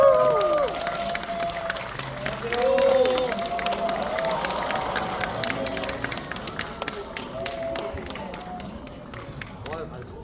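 Cinema audience at a stage greeting in a Megabox MX hall in Suwon, clapping and cheering in a crowded theatre; applause swells then thins into scattered claps while voices speak over it.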